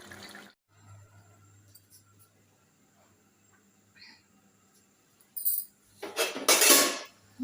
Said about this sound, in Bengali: মিট কুমড়া ডুগা রান্না বান্না চলছে